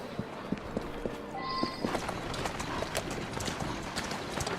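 A horse's hooves clip-clop in Assassin's Creed Syndicate, a brisk, regular trot of sharp knocks over a busy street-like background, with a brief whinny-like tone near the start.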